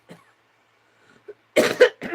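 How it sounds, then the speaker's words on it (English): A person coughs in a brief, sharp burst of a few close, loud coughs after a near-silent stretch, in a quiet indoor crafting space. "Coughing there. Coughing."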